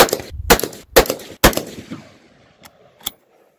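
A Ruger Gunsite Scout rifle in 5.56 fires Winchester 55-grain white box rounds: four loud, sharp shots about half a second apart, each trailing a short echo, then two fainter pops.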